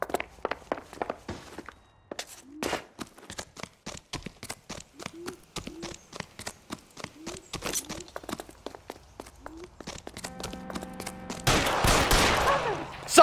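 Gunshots from the detective video game L.A. Noire ring out as a long string of sharp, separate cracks at an uneven pace, with a burst of heavier noise at the end and faint voices now and then.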